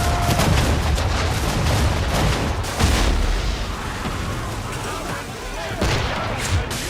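Musket volley fire in a battle in Assassin's Creed III, a dense run of booming shots and blasts that continues throughout, loud and close, with shouted commands and voices mixed in under the gunfire.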